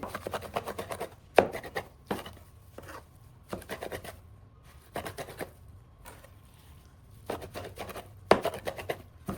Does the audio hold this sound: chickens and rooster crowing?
no